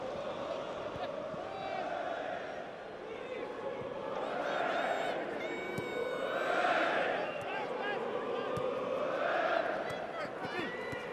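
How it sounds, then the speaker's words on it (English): Travelling away fans at a Huddersfield Town vs West Bromwich Albion Championship football match cheer in swelling waves, a broad crowd roar rising and falling under continuous background noise. "They're cheering every touch now."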